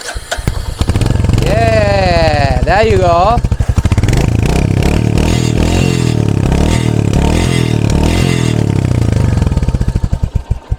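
A motorcycle engine idles and revs loudly through its exhaust close by, with a quick throttle blip; someone speaks briefly over it.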